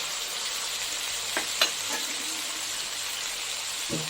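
Green chilli, cumin, red chilli powder, salt and turmeric sautéing in oil for a light katla fish curry, a constant bright sizzle with a few soft stirring knocks, steady and close.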